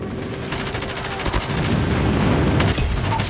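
A friendly airstrike in Call of Duty: Mobile multiplayer erupts as loud, dense rapid-fire gunshots and blasts rattling continuously with heavy booms throughout, no talk.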